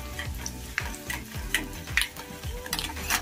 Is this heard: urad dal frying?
yes